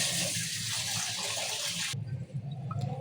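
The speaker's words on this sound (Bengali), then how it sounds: "এরপর এটাকে নামিয়ে এই পাত্রটার মধ্যে ঢেলে নেব ছেঁকে নেবো ভালো করে" Homemade hair oil is poured and strained into a container, giving a steady close wash of liquid trickling that thins out partway through into softer, uneven dribbles.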